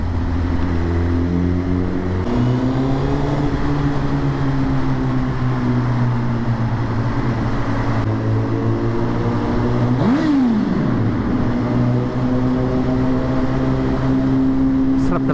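A Suzuki GSX-R1000 motorcycle engine rumbles steadily in a tunnel, then is blipped into one sharp rev around the middle before settling back to a loud, sustained idle, with other traffic droning close by throughout.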